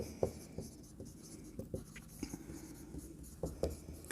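Pen writing an accounting entry during a class-11 accounts lesson, heard as soft, faint scratches and light taps in short irregular strokes over a quiet room background.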